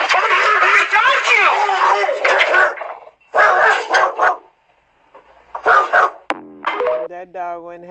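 A dog barks in loud, close bursts at a church gathering, with people talking around it and a short whimpering yip near the end.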